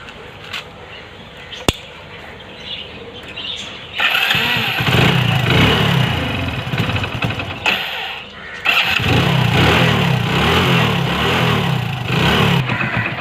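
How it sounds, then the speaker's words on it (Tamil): A second-hand motorcycle engine cranks and fires up, then settles into a steady loud idle with a brief dip and a second burst of running. "அடுத்தது நம்ம இன்ஜின் நாய்ஸ் செக் பண்ணுறோம்."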